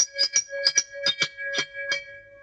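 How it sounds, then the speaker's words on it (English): Traditional doorbell chime, recorded and played back, sounds as a quick sequence of about eight bright ringing tones in an uneven rhythm, fading out at the end. "I recorded that traditional doorbell for the door I showed you earlier"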